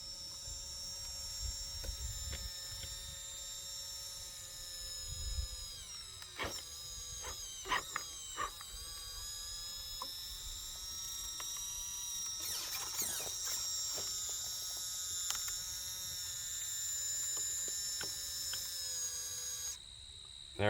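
An Injora 35 kg servo winch pulling a Vanquish VS410 Fordyce RC crawler gives a steady, high-pitched electric motor whine, broken by several sharp clicks and ratcheting bursts, with no one speaking.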